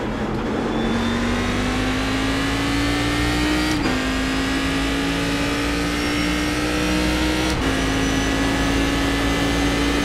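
Race car engine in a racing video game, with IndyCar and Cadillac cars on the Nurburgring: a loud, steady engine drone with rising pitch through each gear, broken by two abrupt upshifts, continuous throughout with no talk.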